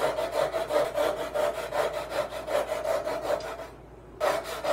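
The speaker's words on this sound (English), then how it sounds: "Once the glue is dried, I can cut off the excess spline material." Fine-tooth pull saw cutting off excess wooden spline material on a grain-wrapped dice tower, a steady run of rhythmic rasping strokes up close, with a brief pause near the end before the strokes resume.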